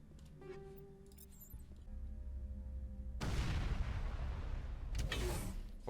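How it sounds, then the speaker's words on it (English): An explosion in Mass Effect Legendary Edition bursts in as a loud, broad rumbling boom after quieter tonal game ambience, then lingers as a sustained roar. "What was that explosion?"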